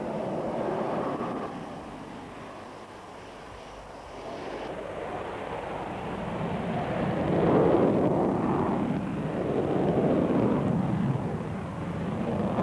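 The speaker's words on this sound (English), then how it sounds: "It's, in fact, commonly known as the flanker, this aircraft." A Sukhoi Flanker jet fighter performs at an airshow, its engines producing a steady, distant roar that swells louder toward the middle and end of its low-speed pass.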